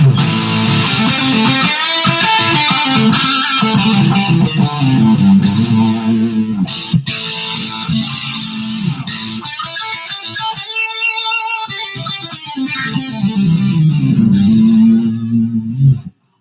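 Loud electric guitar with a heavy distorted tone plays chords and riffs continuously, with a brief pause midway, then stops abruptly.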